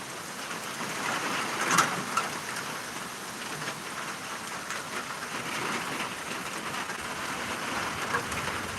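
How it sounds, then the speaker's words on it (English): Steady rain falls in North Florida during Tropical Storm Elsa, an even, dense hiss of drops on surfaces continuing throughout with no voices. "you can take a nap to this rain"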